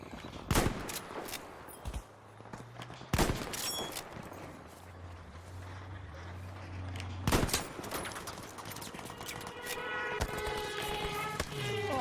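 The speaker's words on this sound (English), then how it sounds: "that was the LMG who actually started firing at me before" An LMG machine gun fires in Battlefield 5 on the Arras map, sharp loud bursts and single shots cracking at irregular intervals, some close and some farther off, amid rumbling battlefield noise.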